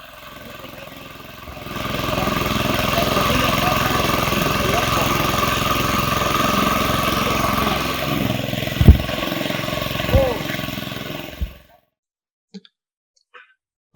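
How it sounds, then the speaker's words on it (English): A small engine fuelled by pyrolyzed material runs a water pump, a steady close drone for most of the clip with a few clanks before it cuts off, leaving near silence and faint clicks. "you can see him here using the engine to pump water"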